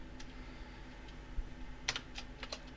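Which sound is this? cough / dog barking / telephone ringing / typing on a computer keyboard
typing on a computer keyboard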